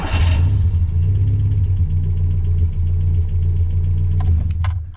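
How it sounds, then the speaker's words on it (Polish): A warm 1974 FIAT 125p engine turns over and catches, then settles into a steady, loud low rumbling idle heard close up for several seconds before a few brief clicks near the end. "Zobaczymy sobie jeszcze jak odpala na zagrzanym silniku."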